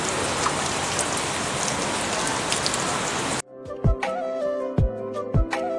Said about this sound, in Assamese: বহুত বেছি বৰষুণেই দি আছে